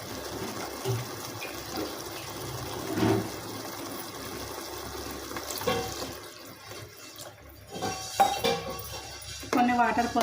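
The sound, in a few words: water poured into cooking pan for tomato curry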